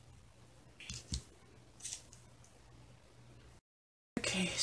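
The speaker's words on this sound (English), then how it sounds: "And of course you need your scissors." A few quiet snips of scissors cutting paper, close up, spaced about a second apart, then a brief gap before a louder rustle.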